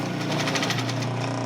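A sewing machine stitches through a scrap of fabric, a fast, even needle chatter that runs steadily and close up for the whole moment without any talk.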